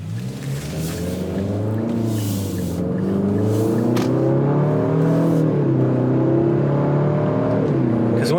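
Engine of a 2025 Infiniti QX60 accelerating while driving, a loud, close cabin drone whose pitch rises and drops through several gear changes over a steady low road rumble.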